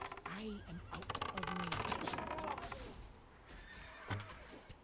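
A zebra neighs in World of Warcraft Classic, a whinnying call near the start, followed by clip-clopping hooves and the soft clatter of computer keyboard typing throughout.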